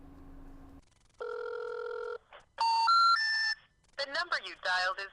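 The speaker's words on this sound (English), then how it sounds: "picked up the phone and dialed the number on Katerina's file" Telephone dialing and ringing sound effect: a low hum, then a steady tone, a rising three-note intercom-style chime and a short burst of ringing tones, with a voice speaking.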